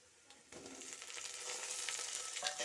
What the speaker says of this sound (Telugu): ఇప్పుడు మనం టమోటా వేసుకుందాం.